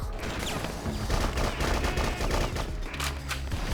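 Automatic gunfire from the action video game BloodRayne rattles on in a loud, unbroken stream of rapid shots for the whole stretch, with no voices over it.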